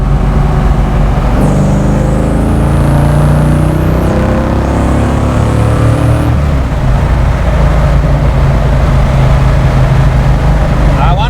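A 1969 Ford Mustang fastback restomod with a 347 stroker engine and five-speed gearbox accelerates hard up an on-ramp, its loud engine rising through the revs, dropping at a shift and pulling again, while people talk over the roar inside the car.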